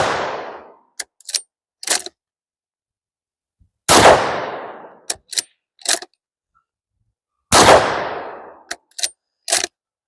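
A Howa MVP rifle firing supersonic rounds: three loud, sharp shots spaced a few seconds apart, each followed by a short burst of metallic clicks and clatter from the action cycling.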